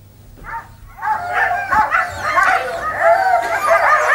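Yukon Quest sled dogs eager to run in deep cold, barking and yipping in an excited, overlapping chorus that begins with a lone yelp and then rises to a near, loud, continuous clamour of high yelps and whines.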